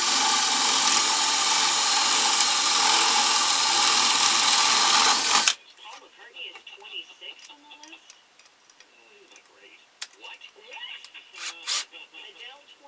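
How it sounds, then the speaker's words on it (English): A power tool fitted with a 5/8 inch cutter carves into a wooden ventriloquist dummy head held in a vise, a loud steady whine for about five seconds, then it stops and scattered tapping and quiet talk follow. "I'm going to use a 5/8 inch tool here to cut this out."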